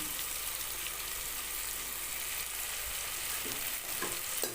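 Ghee sizzles steadily in a pan while ingredients are stirred for wedding-style ghee rice, a close, continuous crackle with a few louder scrapes of the spoon near the end and no talking.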